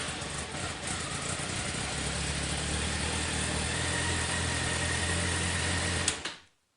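A carbureted Honda Hornet 599 motorcycle, fitted with a lithium battery, starts quickly and settles into a steady idle, a loud close rumble that holds for several seconds before cutting off abruptly, with no talking.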